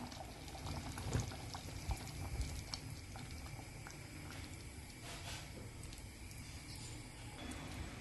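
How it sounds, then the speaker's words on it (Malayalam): Melted jaggery syrup, 250 g of jaggery dissolved in half a cup of water, is poured through a strainer for paal kozhukkatta, a steady soft liquid trickle and patter running throughout at close range with no talk. "ഇതൊരു അരിപ്പയിലൂടെ അരിച്ചൊഴിക്കാം."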